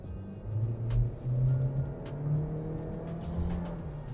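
A 2022 Chevy Equinox LT with a 1.5-liter turbo engine accelerates, its engine drone rising steadily and staying fairly loud and continuous with faint road noise.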